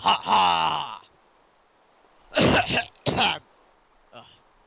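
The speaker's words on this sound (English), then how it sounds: "I was actually coughing." One person gives a strained, throaty cough with a clearing of the throat. Two short, harsh bursts follow after a pause, and a faint tail trails off in a quiet room.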